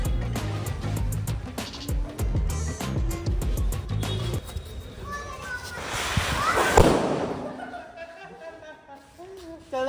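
During testing of local and branded firecrackers, one bursts with a sharp crackling blast partway through, amid excited voices of people talking and shouting nearby.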